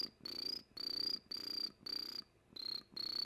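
A person imitates a cricket's chirp, giving six quiet, evenly spaced trilled bursts with short gaps between them and no talk.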